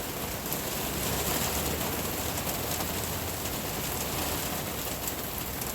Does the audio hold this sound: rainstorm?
yes